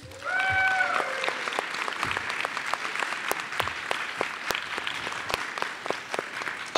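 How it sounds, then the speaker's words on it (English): A live panel-discussion audience applauds a guest, a dense steady wash of clapping with sharp individual claps standing out, loud and sustained throughout, with a brief voice at the start. "Clap your hands for Libby Emmons!"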